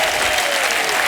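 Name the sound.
studio audience applause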